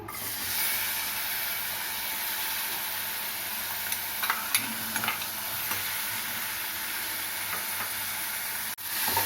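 Onions frying in oil for chana masala curry, a steady close sizzle and hiss with a few light stirring scrapes and clicks, no voices.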